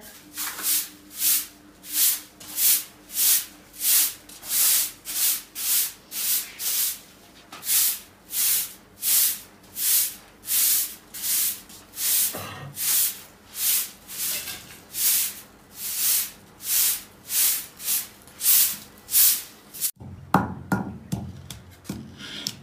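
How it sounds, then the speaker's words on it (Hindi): Spices are rubbed and ground together by hand for masala, making a long run of steady, rhythmic scraping strokes, each a close hissy swish, before the motion stops near the end. "मिसाला कर रहे हैं तैयार, इसको बना रहे हैं, रगड़ रहे हैं अच्छी तरह"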